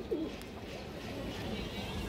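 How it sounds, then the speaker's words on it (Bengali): A male Sapchila racing pigeon coos faintly in a loft, a low rolling call rising briefly near the start and then blending into a steady murmur of background noise. "নরের ডাকটা দেখেন কত সুন্দর ঘুরে ঘুরে ডাকে"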